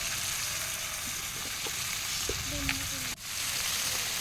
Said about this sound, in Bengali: এখন আমি আলু আর ডাঁটাটা একটু ভেজে নেব।